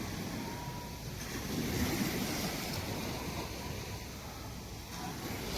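Soft sea waves wash and swell at night on Ladghar beach, Dapoli, in a low, continuous roar, with some wind, fairly distant and quiet.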